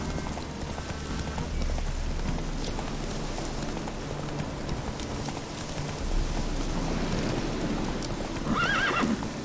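A horse in a video game gallops with steady clip-clop hoofbeats and neighs, set against a rain-like wash throughout, no talking.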